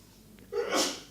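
A single sharp human sneeze bursts out after a short inhale, close and fairly loud, at a lecture on ethics and pedagogy.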